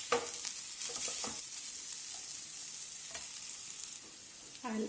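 Turmeric and Kashmiri red chili powder stirred into onions frying in a pan, a soft continuous sizzle with several scraping strokes of the spoon, quiet and close.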